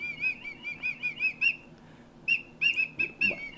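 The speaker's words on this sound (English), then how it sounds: "Why are you blowing into the whistle?" Repeated shrill whistle toots, a quick run of short blasts, a pause, then another burst of several short blasts, close and loud with nothing else around them.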